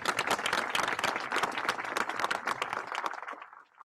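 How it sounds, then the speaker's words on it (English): Dense applause from a large audience, steady and loud for several seconds before tapering off and fading out at the end. "Let's give her a big, huge, gigantic, warm round of applause"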